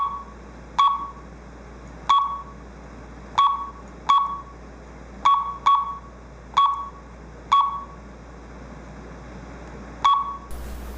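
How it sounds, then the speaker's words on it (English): A keypad on a home security system's emergency dialer gives sharp electronic beeps, about a dozen single tones at irregular intervals, clear and close over a steady low hum. "press the memory key and select the memory location on the keypad from numbers 1 to 9"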